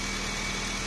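A Honda City VX 2017 engine runs at a steady idle after starting, a constant low hum with a faint mechanical whir, close by and with no talk.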